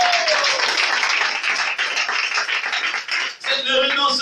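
A church congregation applauds in a dense, loud, sustained wash of clapping that runs throughout, with voices rising briefly at the end.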